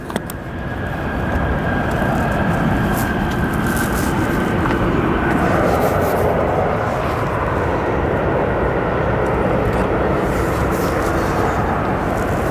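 A Turkish Airlines Boeing 777 at O'Hare gives a sustained, even jet engine rumble, loud and steady throughout with no talk.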